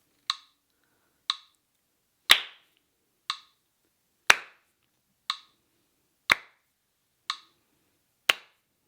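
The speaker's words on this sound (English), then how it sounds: "just start by clapping or playing on every second note" Steady metronome ticks once per second during guitar practice, with a sharper, louder hand clap landing on every second beat, crisp and close in an otherwise quiet room.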